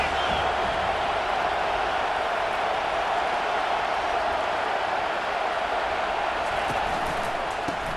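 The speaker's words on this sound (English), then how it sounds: "Here comes this home crowd as the defense tries to get off the field on third down." A home stadium crowd in EA Sports College Football 25 keeps up a dense, steady roar of cheering that stays loud and unbroken throughout, like a packed stand on third down.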